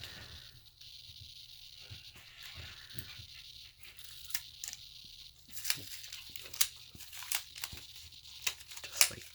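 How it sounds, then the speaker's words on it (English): Thin protective plastic layers are peeled off a Dell XPS 15 9530 keyboard part, giving quiet crinkles and sharp ticks that grow denser and louder toward the end, close up, with no talking. "So make sure, just peel all those layers back off."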